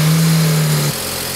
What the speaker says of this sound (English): Now with the intercooler back on and the cooling system bled, time to start the car.